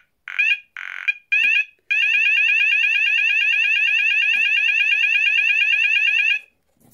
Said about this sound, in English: So now I believe this is set on fast sweep, so we're going to set it off now in 3